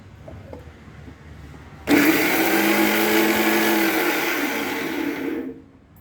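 A mixer grinder coarsely grinds a head of garlic, starting abruptly as a loud, steady motor whir that runs for about three and a half seconds before cutting off, with no talking.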